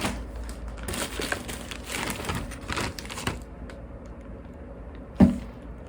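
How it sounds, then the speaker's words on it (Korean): Plastic zipper bags being handled and crinkled at close range while portioned supplies are packed, a continuous rustle with a sharper knock near the end and no speech. "지퍼백을 빼야 합니다."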